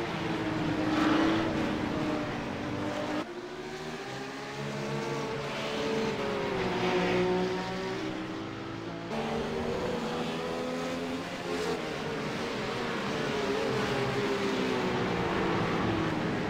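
Race cars lap the 24 Hours of Spa-Francorchamps circuit with a sustained, fairly loud engine drone that rises and falls in pitch as cars pass, with layered engine notes and no talk over it.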